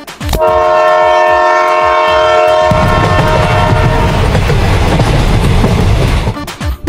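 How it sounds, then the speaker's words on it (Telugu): A train rolls in, its horn sounding loud and sustained at the start, then heavy wheel and engine rumble building as it draws close and passes, staying loud throughout without speech. "ట్రైన్ వస్తుంది"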